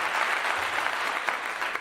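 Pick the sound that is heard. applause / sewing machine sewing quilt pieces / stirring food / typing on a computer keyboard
applause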